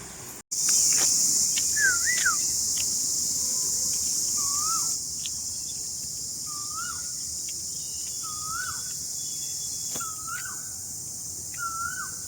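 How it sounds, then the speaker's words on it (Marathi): A koel in Aarey forest, Mumbai, repeats its rising two-part whistled call about every one and a half seconds, clear at mid distance, over a constant high insect drone. "आता तो तुम्ही आवाज ऐकला तर कोकिळेचा आवाज होता"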